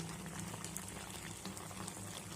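Thick sugar syrup with raw mango pieces bubbles steadily at a gentle boil, a constant soft gurgle and popping with no voices.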